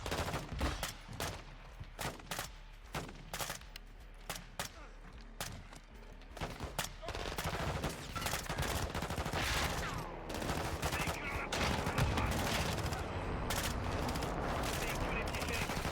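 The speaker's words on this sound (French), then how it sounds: "Mes hommes ont besoin de tirs de couverture." Sustained gunfire and covering fire in the video game Modern Warfare II: dense bursts of shots, then a steady, loud fusillade of automatic weapons, with voices faintly under the din.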